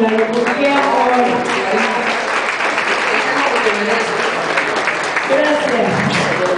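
An audience applauds at a fashion show in a shopping gallery, steady clapping across the whole stretch, with a voice talking over it.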